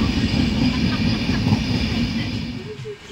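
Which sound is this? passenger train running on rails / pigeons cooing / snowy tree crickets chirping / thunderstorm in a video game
passenger train running on rails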